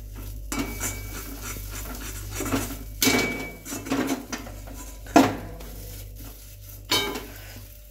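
Ground green peas cooked with ginger and chilli paste are stirred in a wok, the spatula scraping and clanking against the metal in irregular strokes, with soft sizzling underneath.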